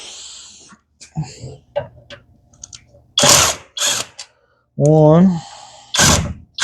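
A ratchet wrench with a 6mm Allen socket clicks in short bursts during a Badlands Apex 5500 winch install on a Can-Am Defender, with separate mechanical whirs and someone speaking briefly in between.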